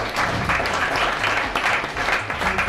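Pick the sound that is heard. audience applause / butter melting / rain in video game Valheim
audience applause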